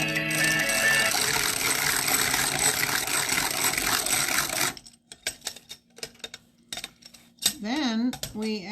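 An electric hand mixer blends a creamy pumpkin and butternut squash mixture for a harvest bake, a loud steady whirr for about five seconds that stops abruptly, followed by scattered clinks and a voice speaking.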